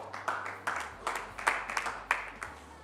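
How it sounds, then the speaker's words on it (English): A small audience claps sparsely, with scattered, separate hand claps at an irregular rhythm, faint and somewhat distant. "you can clap for me harder"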